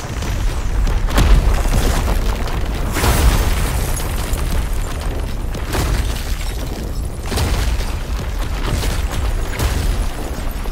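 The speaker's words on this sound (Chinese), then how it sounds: "罗正，你看这冰晶烟花是不是也很美？" Ice crystal fireworks in an animated fantasy series burst in a dense, loud barrage of booms and crackling pops, with stronger blasts near the start and middle, continuous and without talk.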